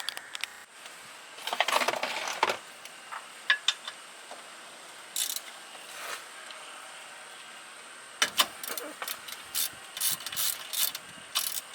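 A ratchet clicks in short, scattered bursts while loosening the differential fill plug on a Nissan 350Z, close-up and fairly quiet, with pauses and light metallic handling noises in between.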